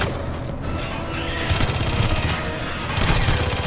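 Rapid automatic gunfire in the video game Aliens: Colonial Marines, a dense, loud stream of shots and booms in bursts, with a brief lull before firing resumes.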